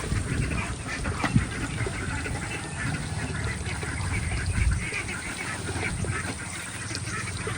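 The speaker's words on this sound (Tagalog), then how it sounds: "At papakawalan na natin mga itik." Ducks quack continuously as they are let out of a pen at a small farm lot, a dense overlapping chorus of loud, near calls over steady background noise.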